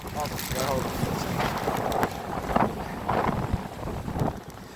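Strong wind gusts buffet the microphone outdoors, a steady roaring rush with louder bursts, while a person talks intermittently underneath.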